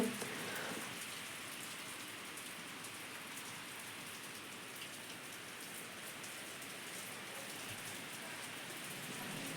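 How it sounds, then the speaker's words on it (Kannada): Steady heavy rain pouring down, a dense continuous hiss of drops on surfaces, constant and enveloping with no voices. "ಸಖತ್ತು ಮಳೆ ಸ್ಟಾರ್ಟ್ ಆಗಿಬಿಡ್ತು"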